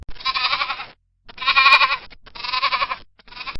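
A goat bleats three times in drawn-out, wavering calls with short gaps between them, then starts a fourth, loud and close with no talking.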